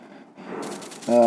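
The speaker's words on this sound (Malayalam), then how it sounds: "നമ്മൾ ഇങ്ങനെ വെടി വെച്ച് ഇങ്ങനെ കളിക്കുക" Bursts of rapid gunfire in the mobile shooting game Ultimate Battle, growing louder toward the end and ending in a loud, ringing electronic blast.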